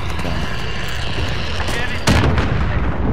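Gunfire and heavy blasts from the video game Call of Duty: Modern Warfare, a dense rumbling barrage that swells into a louder burst partway through, with no voices over it.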